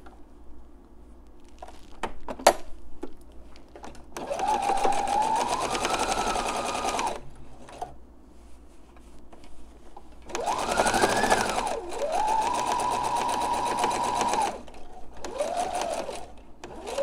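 Home sewing machine stitching a seam on a fabric face mask, running in several whirring bursts of a few seconds each that rise and settle in speed, close and clear, with quiet handling clicks between runs.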